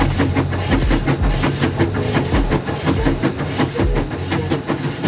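A passing train rumbles loud and steady, with rhythmic low thumps from the wheels over rail joints and a constant hiss above, heard alone with no talk.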